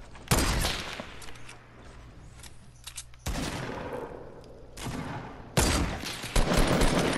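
Gunfire in the video game Fortnite, including a no-scope sniper shot: a few loud, abrupt blasts separated by quieter stretches of game noise, each burst sharp and broadband.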